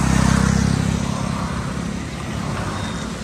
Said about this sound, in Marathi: आता हायवेला लय ट्रॅफिक व्हायला लागले